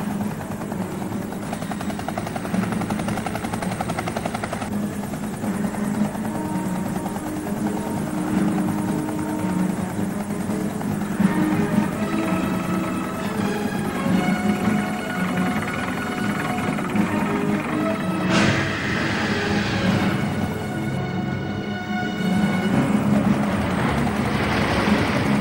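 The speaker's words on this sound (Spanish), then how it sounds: "¡Necesitamos un helicóptero más grande!" A helicopter drones loudly and continuously overhead, its engine whine and rotor buzz steady throughout, with a brief sharp shift near the end as the pitch changes.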